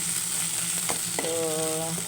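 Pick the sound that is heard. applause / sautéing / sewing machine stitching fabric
sautéing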